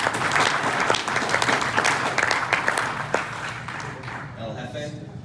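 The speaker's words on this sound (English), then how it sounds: "Let's give Abby one more round of applause" A club meeting audience gives a round of applause, a dense burst of many hands clapping that fades out over a few seconds, with no one speaking.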